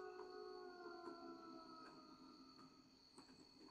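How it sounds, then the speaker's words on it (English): Wolves howl together in long, sustained, overlapping tones that hold steady pitches with slight swells, faint and continuous with no voices. "No wonder the wolves are howling in the background."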